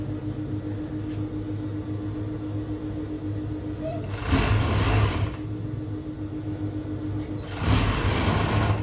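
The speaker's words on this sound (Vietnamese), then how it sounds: "Mình sẽ qua máy mình may nhé." A sewing machine stitching the hem of a pair of elastic-waist lounge trousers: a steady motor hum with two louder bursts of rapid stitching, close up.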